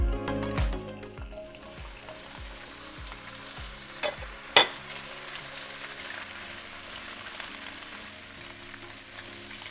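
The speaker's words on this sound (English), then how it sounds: "we're gonna cook our Loukaniko, which we've cooked in the oven, but we're gonna need to brown the pieces" Round pieces of oven-cooked Loukaniko sausage browning in a pan, a continuous close sizzle with a few clicks and knocks of handling early on and one sharp clatter midway.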